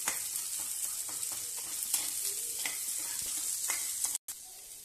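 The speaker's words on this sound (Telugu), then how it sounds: "ఆనియన్స్ వేగిపోయాయండి." Onions fry in a mix of oil and butter for paneer butter masala, a close, steady sizzle with soft stirring scrapes and crackles, briefly cutting out near the end.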